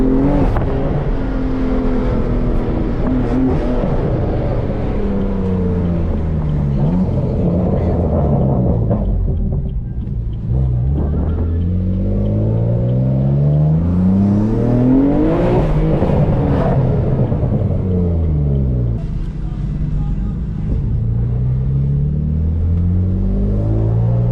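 A BMW M3 engine accelerates hard at high speed on a highway, with a loud continuous roar that climbs in pitch through repeated rising sweeps as it runs through the gears.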